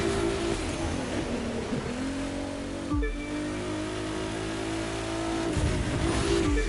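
Race car engines in The Crew 2 roar and rev hard, with gear changes, a sharp drop and then renewed acceleration. The engines sound loud and close throughout.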